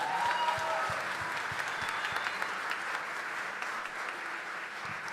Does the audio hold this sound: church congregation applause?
yes